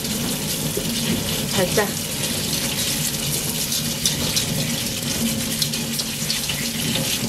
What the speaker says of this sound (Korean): 블루베리는요 그냥 이렇게 흐르는 물에